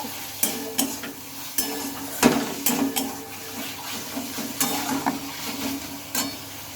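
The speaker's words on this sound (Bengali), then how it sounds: "ভালোভাবে সব উপকরণগুলো আমি মিশিয়ে নিচ্ছি" Bottle gourd curry ingredients with tomato and fried prawns stirred in a pan, a spoon scraping and clattering in irregular bursts over a soft, steady sizzle, close and fairly quiet.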